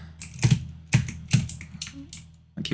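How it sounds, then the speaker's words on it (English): Keys clack on a computer keyboard in sharp, loud bursts, three evenly spaced strokes then a quieter one and another after a pause, close to the microphone with no talking. "My keyboard's probably too loud."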